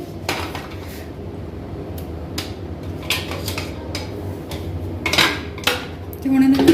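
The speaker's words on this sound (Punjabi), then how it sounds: "ਵਿੱਚ ਥੋੜੇ ਜਿਹਾ ਬਰਫ਼ ਦੇ ਮੈਂ ਟੁਕੜੇ ਪਾਉਂਗੀ ਆਈਸ ਕਿਊਬਸ ਪਾ ਦਾਂਗੀ" Ice cubes clatter and clink into a jar of homemade summer juice in a run of hard knocks against glass and metal, close and fairly loud with some kitchen handling.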